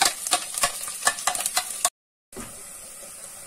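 Onion hitting hot masala paste of ginger and garlic in a pan, sizzling and crackling loudly with bursts of stirring, then a brief silent gap before a steadier, quieter fry.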